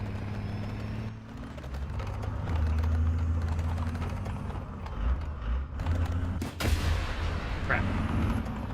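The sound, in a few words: missile fired from AH-56 helicopter in video game War Thunder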